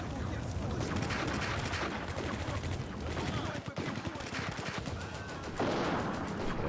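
Gunfire in the war game Combat Mission: Barbarossa to Berlin, bursts of rapid shots and sharp cracks repeating throughout at moderate level, under a dense layer of game noise.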